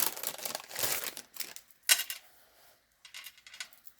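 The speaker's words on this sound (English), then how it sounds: "I am going to use tear tape for this." Tear tape peels off its backing for a paper craft notebook in a few quick crinkly rips and crackles, close and fairly faint, separated by short quiet gaps.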